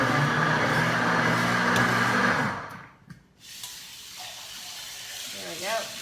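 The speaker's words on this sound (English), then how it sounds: "I'm just going to drain that with our strainer right here" Water from soaked basmati rice pours steadily through a fine mesh strainer into a sink for a couple of seconds, then stops, followed by quieter handling sounds and a person talking.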